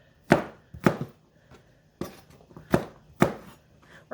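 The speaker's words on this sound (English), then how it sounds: "So what I'm going to do to cut these is I just kind of cut them into cubes." Knife chopping vegetables into cubes on a cutting board: sharp, close chops come in an uneven rhythm, about six firm strikes with a few lighter taps between them.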